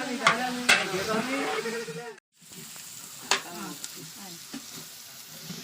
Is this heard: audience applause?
no